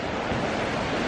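Sea waves break against a rocky shore in a brief, loud wash of broadband surf noise with no pause, alone and with no voices.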